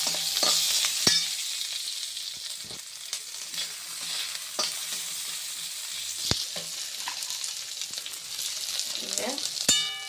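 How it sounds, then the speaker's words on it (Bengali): Chopped onions frying in a pan with sauce, giving a steady bright sizzle broken by occasional scrapes and clinks of the spoon as they are slowly stirred; no voices. "এবার পেঁয়াজটা হালকা করে নেড়ে তারপরে বাদ বাকিগুলো দিয়ে দেবো আস্তে আস্তে"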